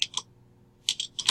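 Keys of a computer keyboard are tapped in two quick pairs separated by a short pause, with crisp, close clicks and no talking.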